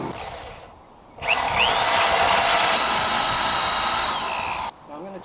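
A power drill whirs steadily for several seconds as it drives screws through wooden baseboards laid over weed mat while building a wooden arch bridge outdoors, starting and stopping abruptly, close and loud with no talk.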